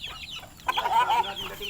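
Chickens being fed give short clucks and one drawn-out, rising squawk in the middle, close by and moderately quiet.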